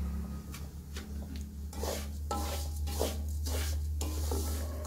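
Wheat flour roasting in ghee for nishasta, stirred in a pan: soft repeated scraping and rubbing strokes in an uneven rhythm over a low steady hum, quiet and close, with no talking.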